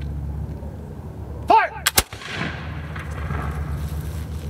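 A flintlock musket fires once during a historical firing demonstration, a sharp loud crack followed by echoing rumble that trails off into a quiet outdoor background.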